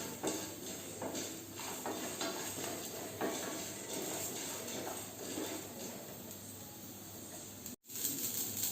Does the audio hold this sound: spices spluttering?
yes